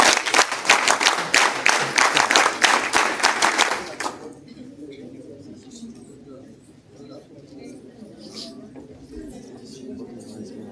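Cadets at a camp ceremony clap in rhythmic unison, a loud synchronized beat of about a dozen claps that stops abruptly after four seconds, leaving quieter ambient murmur and low room noise.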